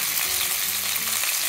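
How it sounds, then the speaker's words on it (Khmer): Steady, close sizzling and crackling of fish frying in hot oil, continuous throughout with no voices. "ចាសម្រាប់ត្រីបងប្អូនចៀនឲ្យក្រៀមបន្តិចចាទៅវាអត់មានក្លិនឆ្អែតចា"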